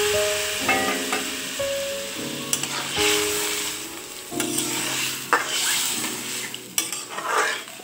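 Broth poured into a curry sizzling in a pan, followed by stirring with a utensil, bubbling and hissing with metallic scrapes and clinks against the pan, close up with no talking.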